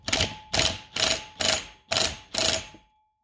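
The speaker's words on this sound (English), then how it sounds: "I'm going to get my wrench on the bottom nut here." A ratchet wrench tightens the bottom nut of a rear shock absorber on a 2007 Nissan Quest, giving six loud, evenly spaced bursts of clicking about half a second apart, close up, then stopping.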